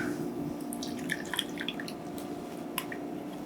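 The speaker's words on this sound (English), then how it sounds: "Add 5 tablespoons of melted butter." Melted butter poured into a bowl of Ghirardelli chocolate chips, a soft wet dripping and squishing trickle, fairly quiet and close, with a few brief splats over a low background hum.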